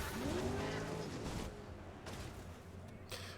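A V8 supercar in the racing video game GRID roars loud and close, with a rising engine sweep and tyre skid noise in the first half before the engine settles to a lower, steadier drone.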